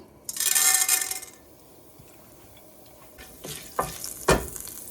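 Chana dal dropped into hot oil in a pan for brinjal pickle, with a loud burst of sizzling frying at the start that settles down, followed by several clinks and scrapes of stirring.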